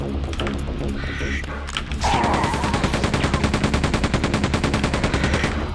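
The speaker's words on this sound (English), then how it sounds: "drain some of the machine gun bullets we've been accumulating" Machine gun fire in Quake II: after some mixed game noise, a loud, fast, rapid-fire burst of evenly spaced shots runs continuously for several seconds.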